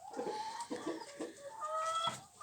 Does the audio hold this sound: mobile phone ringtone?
no